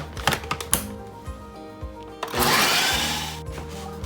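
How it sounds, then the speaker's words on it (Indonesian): Electric blender churning Indonesian meatball dough with salt, baking powder and bouillon powder, starting after a few clicks and clatters into a loud, steady whirring drone that holds for the last couple of seconds. "Nah, kita blender lagi ya."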